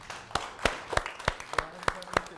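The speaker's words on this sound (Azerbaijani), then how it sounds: "Alqışlarla" Award ceremony audience clapping in a slow, even rhythm of about eight sharp claps, moderately close, with a faint murmur between them.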